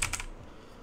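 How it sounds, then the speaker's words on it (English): A few quick clicks on a mechanical keyboard, close and crisp, in a short burst that fades out as the typing stops. "I have a mechanical keyboard"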